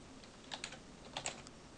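Quiet keystrokes on a computer keyboard as a command is typed, two short clusters of soft clicks close to the microphone over faint room hiss.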